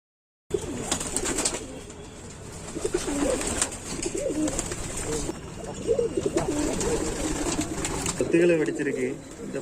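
An injured pigeon, back home after two days away with wounds, coos in soft repeated rolling calls close by while someone talks over it.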